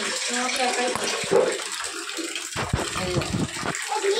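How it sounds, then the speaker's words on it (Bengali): Water runs steadily as henna-treated hair is rinsed, a continuous splashing rush under intermittent talking nearby. "এখন এই যে মাথাটা ধুয়ে ফেলবো"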